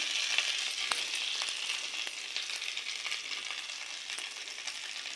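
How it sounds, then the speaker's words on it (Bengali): Whole cumin seeds sizzle in hot oil with a steady, close, bright hiss flecked with small crackles and pops, continuous throughout with no voices. "তেলটা থেকলো, তাতে আমি দিয়ে দেব গোটা জিরে"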